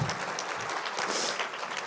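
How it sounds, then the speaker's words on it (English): A crowd at a women's conference event claps briefly but steadily, a soft, even wash of many hands throughout. "yeah, you can clap for that."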